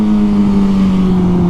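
A stunt motorbike engine runs loud and close in a steady, heavy drone that swells slightly toward the end.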